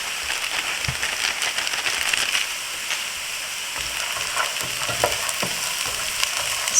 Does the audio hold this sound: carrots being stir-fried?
yes